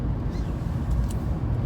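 A car driving along a road, heard from inside as a steady low engine and tyre rumble, fairly loud and unbroken, with no talking.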